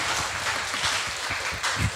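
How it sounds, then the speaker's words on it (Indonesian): A short burst of applause from a small group at a talk show, steady clapping for about two seconds. "sebelum kita kasih tepuk tangan sekali lagi dong buat Om Mobi dan Samara."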